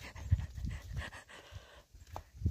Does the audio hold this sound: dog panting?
yes